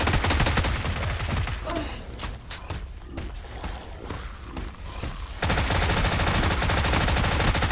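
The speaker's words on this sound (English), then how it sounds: "I'm just shooting these zombies now" Rapid automatic gunfire in a zombie shooter video game, dense loud bursts at the start and end with a quieter gap of scattered shots in the middle, a voice briefly audible underneath.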